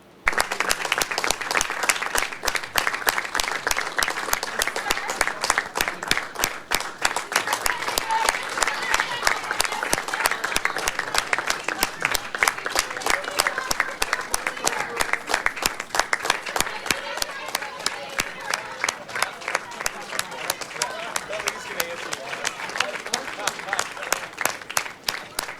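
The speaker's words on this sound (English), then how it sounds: "He kept clapping after Donald Trump left the room." A group in a room applauds for nearly half a minute, with sharp, rapid individual hand claps standing out over a steady wash of clapping that never stops.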